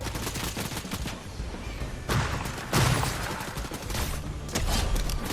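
Rapid bursts of automatic gunfire from a first-person video game shooter, loud and continuous with sharper volleys breaking out in a steady stream.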